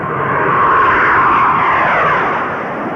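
An A-6 all-weather attack bomber jet flies in a tight turn, giving a loud, steady, broad roar that swells slightly and then eases, with no talk.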